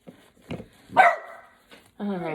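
Small puppy gives a few short yips and barks, with one longer whining, harmonic cry at the end, close by amid household noise while children try to coax it out from a hiding spot.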